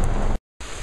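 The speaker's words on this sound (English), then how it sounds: "Sorry about the rain." Rain falling outdoors in a park, a dense steady hiss of drops close to the microphone, broken by a brief silent gap midway.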